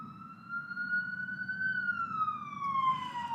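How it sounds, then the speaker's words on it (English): An emergency vehicle siren wails down a city street outside, one long steady tone rising and falling over a low traffic rumble, fairly loud and clear with no talking. "Every 30 seconds, there's an ambulance or a siren wailing down the street out there."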